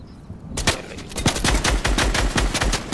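Rapid automatic gunfire in the Fortnite video game bursts in after a brief quiet moment, a loud, close, sustained stream of sharp shots rattling continuously to the end.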